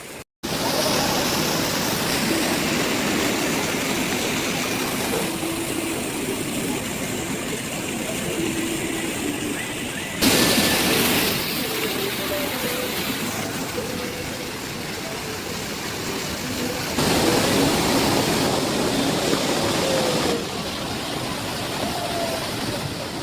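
The Dhuandhar waterfall on the Narmada River near Jabalpur gives off a continuous, loud, broadband roar of falling water. The roar stays steady throughout with slight surges in intensity.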